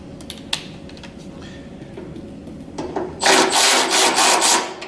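Nuts are tightened with a 10 millimeter wrench while a D60 Promethean board is assembled: soft metallic ratcheting, taps and rubbing, close up, with a louder, denser scraping burst near the end.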